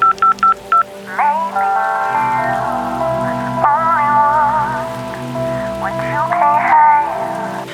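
Telephone keypad dialing in a Bengali audio story: about four short, crisp touch-tone beeps in quick succession open the scene, followed by a soft, rain-like ambience and a sustained tonal background bed, with no voices.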